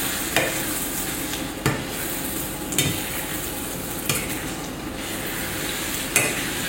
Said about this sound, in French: Vous remuez comme ceci, vous rabattez vers le centre, comme une omelette classique.